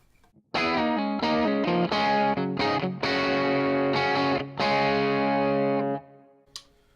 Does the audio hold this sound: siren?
no